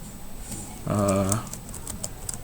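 A few light keystrokes on a computer keyboard, typed to rename a file, tap faintly over a steady low hum and a brief tonal drone.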